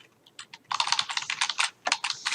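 Quick bursts of keystrokes on a computer keyboard as a new folder name is typed, crisp and close with short pauses between clusters.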